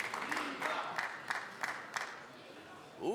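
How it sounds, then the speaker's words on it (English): A small crowd at a 2017 Swedish Open men's singles quarterfinal table tennis match cheers and claps for Niwa Koki, a moderate, scattered burst of applause and calls rising and fading over a few seconds. "a little crowd cheering for NIWA there"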